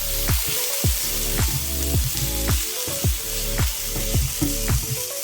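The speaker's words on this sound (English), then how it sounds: "Saute those onions in there with the garlic." Onions and garlic sauté in oil in a pan for shrimp pad thai, giving a loud steady sizzle broken by regular scraping spatula strokes roughly twice a second.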